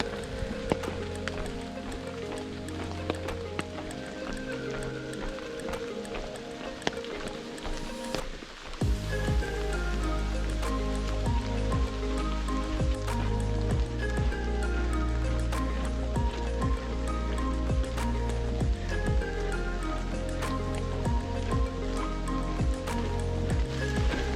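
Steady rain patters and drips all around a swamp forest boardwalk in Congaree National Park in winter, a dense continuous wash that grows heavier partway through, with no voices.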